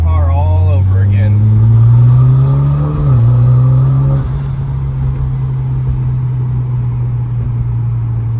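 A Mitsubishi Lancer Evolution engine drones steadily while driving, rising briefly as it revs then settling into a low hum, with someone talking over it early on.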